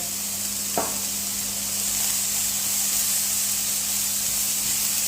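Vegetables seasoned with turmeric, salt and pepper sauté in a pan with a loud, continuous hiss and sizzle, and a brief stirring knock comes early on.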